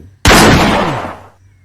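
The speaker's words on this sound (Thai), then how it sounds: "ค่อยๆบรรจงเล็ง และก็ลั่นไก" A single loud gunshot rings out in a forest during a hunt for a green pigeon perched on a bamboo branch, a sharp close blast with a decaying echo lasting about a second.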